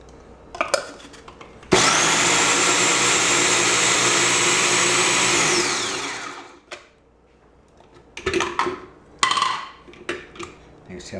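Food processor mincing vegetables for meatloaf, a loud steady motor whir running about four seconds then spinning down, framed by clattering bowl and utensil handling before and after.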